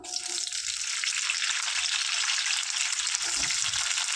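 Green chillies fry in a pan for gongura chutney, a loud, continuous close sizzle with faint stirring rustles underneath.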